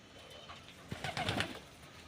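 Pigeons being fed paddy grain give faint low coos, with a few soft flutters and pecking sounds in a quiet, distant-sounding setting.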